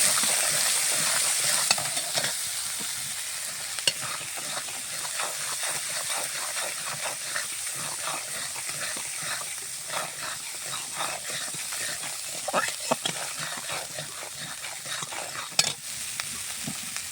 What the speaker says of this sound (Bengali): মশলাটাকে সুন্দর করে আমি কষিয়ে নিই।